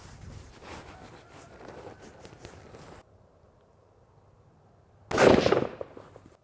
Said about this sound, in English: We're going to take another shot here and see where we're at.